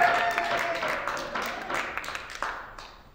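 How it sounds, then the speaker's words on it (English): Audience applause for a musician in an Albanian Balkan folk ensemble, a fairly thin spread of clapping with scattered louder claps that thins out over about three seconds. "Please give a round of applause for Brianna!"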